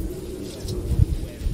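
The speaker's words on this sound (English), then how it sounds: "I'm sorry, there's a bird out there." A pigeon or dove coos outside a window, soft and fairly distant, a few low calls rising over steady room hum with faint speech-like noise in the background.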